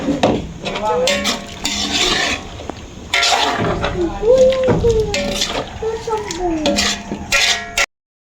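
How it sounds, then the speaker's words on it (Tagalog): A pot of papaya and vegetables stirred with a spoon, scraping and clinking against the metal in an uneven rhythm, close and moderately loud, while someone talks over it. "Halo-haloin."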